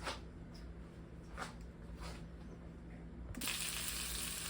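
An omelette cooking in a pan gives a steady, quiet sizzle and hiss that runs unbroken throughout, growing a little brighter and louder near the end.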